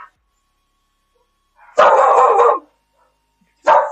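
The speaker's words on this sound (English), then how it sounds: "Oh, big boy bark. He's a big boy bark." A large male dog barks indoors in a loud burst of rapid deep barks lasting under a second, then falls quiet before a second short bark at the end.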